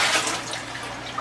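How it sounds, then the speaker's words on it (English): Water gushes and splashes into a toilet bowl in one continuous pour, close and fairly loud, ending with a brief surge. "I'll use the water I got from the bucket here to dump it."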